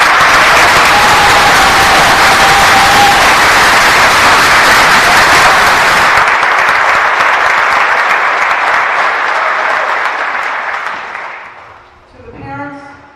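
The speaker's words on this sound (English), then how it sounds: "To those of you in the audience and to your fellow professionals, let's give them a round of applause." A large audience at a middle school 8th grade stepping forth ceremony applauds staff, loud dense clapping that thins after several seconds and fades out, ending with a brief voice.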